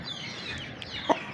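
Hen clucking among chickens in a backyard poultry setup, with soft steady clucks, a louder close cluck near the end, and continuous flock chatter around it.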